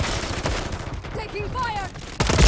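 Dense gunfire in Call of Duty Modern Warfare 3, a continuous crackle of shots mixed with in-game voices and tonal effects, loud and busy throughout.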